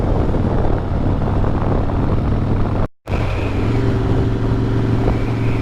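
A Harley-Davidson Breakout motorcycle engine drones loud and close while riding, with a low steady rumble and a brief cut to silence midway before the engine note resumes with a slightly higher tone.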